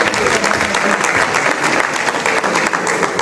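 A congregation at a French-language church service bursts into loud, sustained applause and cheering, a dense continuous clapping crowd from start to finish.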